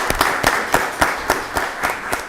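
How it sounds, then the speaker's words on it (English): Scattered, slow applause at a county board of commissioners meeting, a handful of distinct hand claps in a loose rhythm, fairly close and sparse rather than a full crowd. "y'all give Tina Malone a round of applause."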